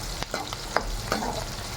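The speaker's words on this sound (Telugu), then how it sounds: "పచ్చిమిరపకాయలు ఇలా ఫ్రై అయిన తర్వాత ఎర్రగడ్డలు, వేసిన తర్వాత వెల్లుల్లిగడ్డలు, తెల్లగడ్డలు వేసుకోవాలి." Green chillies, onions and garlic fry in a pan, giving a steady sizzle broken by a few short clinks and scrapes of stirring.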